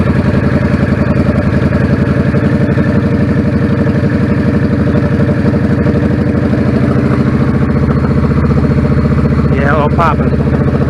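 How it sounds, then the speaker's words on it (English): A 1999 Yamaha V-Star 650 Classic with a clogged pilot jet idles steadily and loud up close, its low rumbling chug continuous throughout with occasional small pops from the tailpipe, while a person talks briefly over it. "I heard a little popping coming out the tailpipe."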